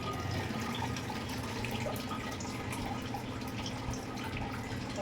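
Water pours and splashes steadily as boiled spicy Korean noodles are drained in a kitchen, a dense, continuous rushing wash at moderate level with no talk.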